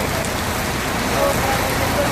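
Steady, loud rain pours down continuously, a dense hiss of drops hitting surfaces with no breaks.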